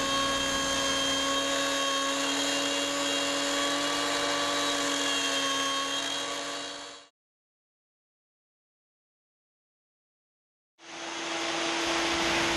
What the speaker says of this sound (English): Set up your fence on the table saw and use a steady motion to guide the particle board through the blade